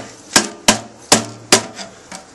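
Four sharp metallic strikes of a hammer on a screwdriver against an ammo can's spot-welded latch at a steady pace, then a fainter fifth, each ringing briefly; close by, with no talking.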